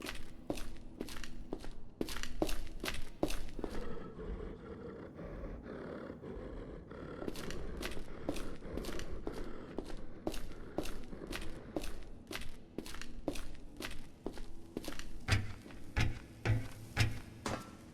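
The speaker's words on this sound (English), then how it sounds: "Hear footsteps in this wall." Footsteps thud inside a wall in the video game Project Silverfish, a steady run of sharp, evenly paced ticks and knocks over a low rumbling ambience, pausing briefly before resuming.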